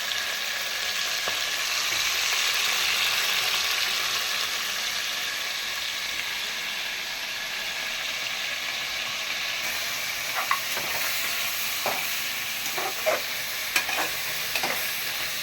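Goat mutton frying in oil and being stirred, a steady close sizzle with hiss throughout, later joined by a few scraping stir strokes and light clinks near the end.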